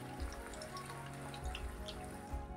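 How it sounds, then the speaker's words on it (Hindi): Eggplant finger chips frying in oil, a soft steady sizzle with faint crackles and pops, quiet and close, with no talking. "इस तरह से अलटते पलटते हम चारों तरफ से बैंगन को अच्छी तरह से फ्राई कर"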